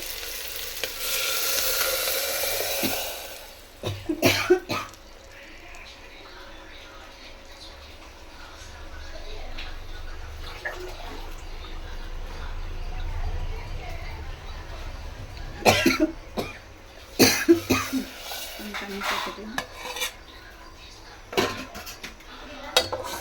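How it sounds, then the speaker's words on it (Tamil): Curry leaves, coriander and spices tempering in a pan give a steady sizzle and frying hiss, with metal utensil clinks and stirring scrapes near the start and end, and a cough partway through. "கருவேப்பிலை எடுத்து வச்சுன தாளிப்புக்கு அந்த எல்லாத்தையும் போட்டுருவேன்"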